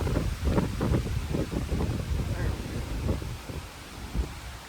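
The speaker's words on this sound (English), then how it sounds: "As you can see, it's quite windy." Strong wind gusts buffet the microphone on an Appalachian mountain top in the Blue Ridge, producing loud, rumbling, uneven low roaring and rustling throughout.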